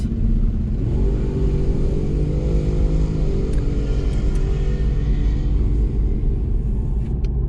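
A Camaro ZL1 drag car rolls toward the staging lanes, its engine a steady, loud low rumble from inside the car, with the pitch stepping up briefly as it picks up speed.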